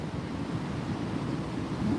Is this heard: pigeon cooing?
no